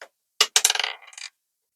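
A £1 coin drops into a cash stuffing envelope, giving a few close, bright metallic clinks and a short rattle before settling, followed by silence.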